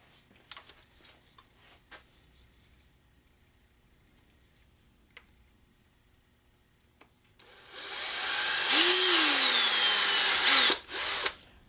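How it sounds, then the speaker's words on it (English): Quiet handling and light clicks, then a power drill whirs up loudly for a few seconds drilling a hole in a Genesis Coupe tail light, its motor pitch shifting before it stops abruptly. "that's where we're going to drill the hole"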